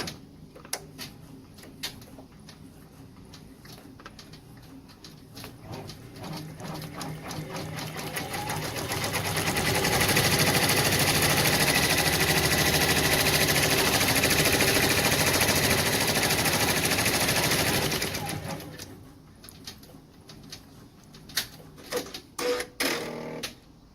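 An embroidery machine stitches an in-the-hoop Easter design, a rapid mechanical needle rattle that starts in bursts, builds to a loud continuous whir, then drops back to stop-start ticking.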